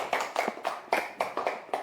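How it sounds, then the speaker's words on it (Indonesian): A classroom of pupils clapping their hands, a quick run of sharp, fairly close claps in an uneven rhythm lasting under two seconds. "Ya, tepuk tangan."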